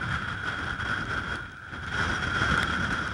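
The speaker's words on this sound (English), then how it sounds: "Get ready for the wind." Strong storm wind near a lighthouse off the coast southeast of Wrightsville Beach, a steady rushing roar buffeting the microphone with a brief lull midway before gusting back louder.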